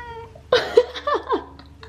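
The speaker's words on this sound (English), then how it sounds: "People think I'm crazy, but my cat can speak." A pet cat vocalizes in a few short, close meows and chirps, separated by brief gaps, in a quiet indoor room during a makeup session.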